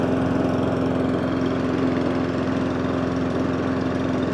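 A Mountfield SP454 lawn mower engine with a hunting and surging fault idles on choke, a continuous even drone with no voices, nearby and unchanging throughout.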